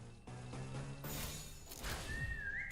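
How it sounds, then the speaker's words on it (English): Brief rising whistle in the video game Limbus Company, thin and fairly faint, sounding near the end over a dense bed of game music and effects. "Now that I noticed the whistle, that's so cool."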